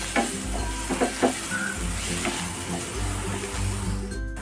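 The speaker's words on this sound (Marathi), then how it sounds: "भाज्या जास्त फ्राय करून घ्यायच्या नाहीत थोड्याशा कच्च्याच फ्राय करायच्या दोन मिनिट फ्राय करूया" Vegetables for masala Maggi sizzle and fry in a pan, close and steady, with a spoon stirring and scraping now and then.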